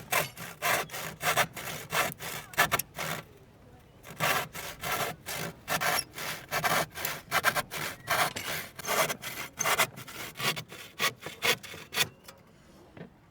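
Wood being cut by hand with a saw, rhythmic rasping back-and-forth strokes with brief pauses, close and moderately loud, no talking.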